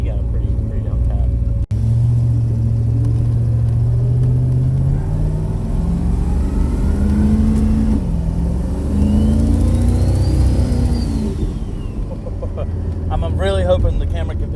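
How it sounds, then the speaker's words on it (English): A turbocharged 5.3-litre V8-swapped Firebird with about 720 wheel horsepower revs and accelerates with a rising, throaty rumble and a faint whistling turbo whine, heard from inside the car. "I'm really hoping the camera can pick up on that turbo noise"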